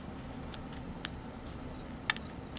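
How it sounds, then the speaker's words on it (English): Faint, crisp snips of small cuticle scissors cutting, a few scattered clicks over a quiet background hum. "I'm just using little cuticle scissors to do this."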